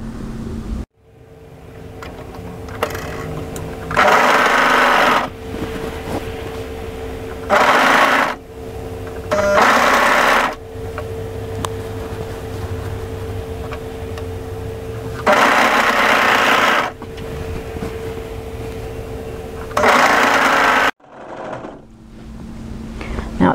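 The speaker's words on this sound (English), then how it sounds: "and then sew down through the body of the garment" A sewing machine stitches the sleeve seam of an off-shoulder raglan swing sweater in several separate bursts of fast, steady whirring, close by, with quieter pauses of handling between runs.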